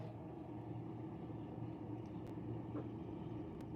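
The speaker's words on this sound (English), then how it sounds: "There's a truck taking off outside right now." A low engine rumble from outside, muffled and distant, as a heavy vehicle idles and pulls away, with a faint click partway through.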